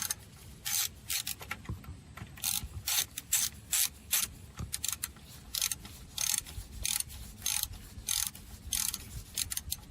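A ratchet clicks in quick bursts while snugging down a bolt on the alternator of a 2004 Infiniti G35, bright close clatters separated by short pauses, repeating rhythmically over a quiet background.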